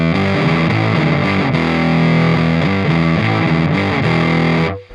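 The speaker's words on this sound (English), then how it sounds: "Very compressed fuzz" A heavily compressed fuzz electric guitar tone from an EQ pedal feeding an Orange Micro Dark amp: thick, saturated sustained chords and riff notes, loud and dense throughout, cut off abruptly at the end.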